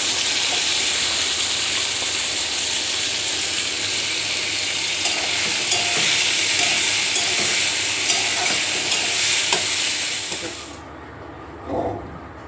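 Bitter gourd and pumpkin stir-fry together in a wok, with a loud, steady hissing sizzle and occasional scraping stirs that suddenly drop away near the end, leaving a brief clatter.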